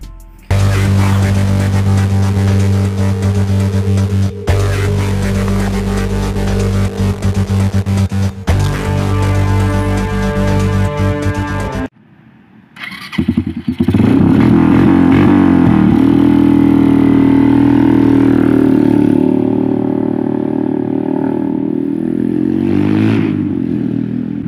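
A Suzuki TU250 scrambler motorcycle engine runs steadily and loudly up close, shifting after a brief dip into a rougher, throatier drone with some rattling.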